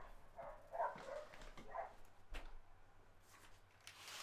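Dogs bark somewhere in the distance, a few faint scattered barks and yips over a quiet indoor background.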